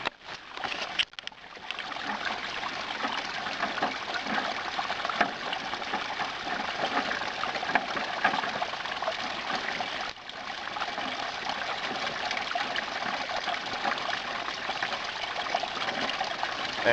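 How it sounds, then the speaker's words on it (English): Spring water runs steadily out of a bucket toward a garden hose, a continuous close trickling and gushing flow that holds level for the whole stretch with no talk. "You see down here we've got water coming out of our bucket."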